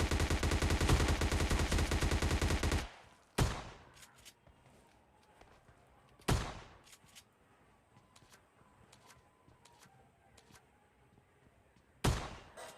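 Shotgun blasts in PUBG Mobile Lite gameplay, a few loud isolated booms spaced seconds apart, following a dense burst of rapid gunfire at the start and quieter game noise with footsteps in between.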